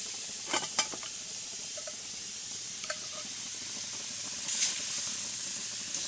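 A steak and shrimp surf and turf stir fry sizzles with a soft steady hiss, broken by a few sharp pops and crackles early on and near the end.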